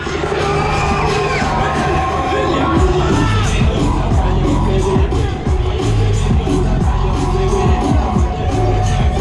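Riders scream and cheer together on a thrill ride in Southend-on-Sea, a dense, loud wall of crowd yelling and whoops sustained throughout with no gaps.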